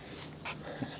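A small dog sniffs and snorts close by, with short breathy bursts scattered through a quiet second.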